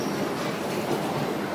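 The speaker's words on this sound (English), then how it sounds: "Yeah, we on the train now" Continuous rumbling and rattling of a train rolling along the rails, steady and fairly loud with no voices.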